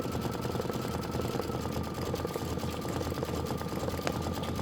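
An embroidery machine stitching out a quilt block gives a steady, dense mechanical whirr with rapid needle chatter, constant in level and close by, with no speech.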